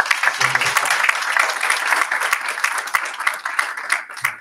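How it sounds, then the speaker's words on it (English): Audience at a board of education meeting applauds students, a close, steady burst of clapping from many hands that holds throughout and eases slightly at the end. "And another round of applause for our students."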